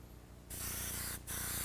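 Dark brown paint bursts from an airbrush into a rag in a steady, loud, close hiss that cuts out briefly and then resumes, with no talk.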